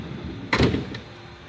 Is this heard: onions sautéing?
no